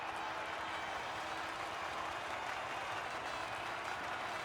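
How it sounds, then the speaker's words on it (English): Crowd cheering and applause in the F1 23 racing game, a steady dense wash of distant noise that holds evenly throughout with no clear individual voices. "they thoroughly deserve the cheers of the crowd here today"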